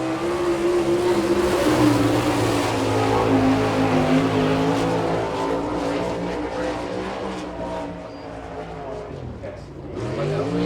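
A sprint car with an Eagle chassis and a Kistler racing engine laps a dirt oval during an All Star Circuit of Champions race in Chillicothe, Ohio, its loud, steady engine roar fading and then swelling again, with an announcer's voice mixed in.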